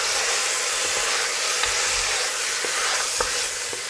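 Lamb pieces for a Creole navarin sizzling in a pot as they are turned, a loud steady hiss with a few sharp clicks and knocks of a utensil, close up.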